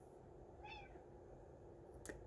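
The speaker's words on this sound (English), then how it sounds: "There's a cat." A cat gives one faint, short meow in a quiet room, heard over a steady background hiss, followed moments later by a brief click.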